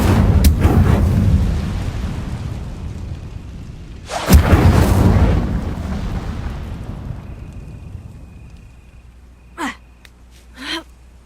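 Incendio fire spell cast in the Hogwarts Legacy video game on PS5: a loud whooshing burst of flame rises and fades, followed by a couple of short sharp effect sounds near the end.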